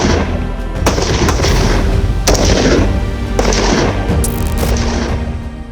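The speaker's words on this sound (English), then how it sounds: "the ability to make precise, well-aimed shots is crucial" BSF recruits at shooting training fire loud, close gunshots: several sharp reports a second or so apart, each followed by a booming echo, over a constant heavy background rumble.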